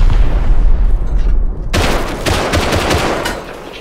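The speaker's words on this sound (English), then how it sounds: "Right, I'm gonna fire." Loud gunfire in the Rust video game, with a burst of sharp shots that cuts in suddenly and is followed by more rapid rounds.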